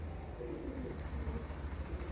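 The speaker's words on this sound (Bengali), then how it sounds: "সব কিন্তু ফিট পায়রা রয়েছে" Domestic loft pigeons cooing, a low soft rolling coo repeated close by over faint background hiss, with no talk.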